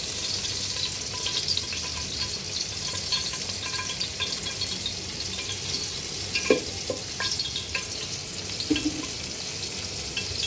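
Curry with onion and green chili frying in a pan, making a constant loud hissing sizzle that holds steady throughout, with a few faint clinks of a utensil and no talking.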